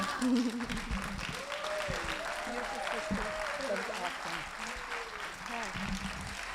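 Applause from an audience at a community performance event, steady continuous clapping of moderate size heard at some distance, with a few voices and a faint vocal tone rising over it.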